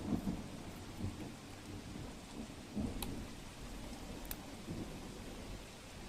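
Steady rain falls over Ahmedabad streets during a light downpour, a continuous wash of drops with low rumbles of thunder rolling beneath it and a couple of sharper cracks.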